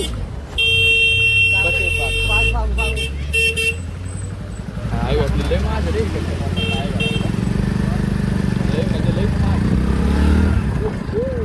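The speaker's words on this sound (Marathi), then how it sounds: "आलो आम्ही 100 cc ची गाडी घेऊन, ते पण घाटात" A 100cc motorcycle climbs a ghat road, its low engine drone running steadily beneath several loud horn toots early on, while people talk over the ride.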